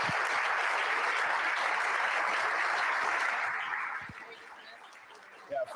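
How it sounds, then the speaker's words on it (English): An audience claps for a panel at a conference session, a thick, even burst of applause that holds strong for about four seconds and then thins out to scattered claps. "Let's give this panel a round of applause."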